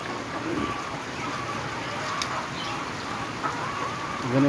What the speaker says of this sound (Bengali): উপরে ঝর্ণার পানি দিছে। দেখেন আপনার দেখাচ্ছি, পানি পড়ছে।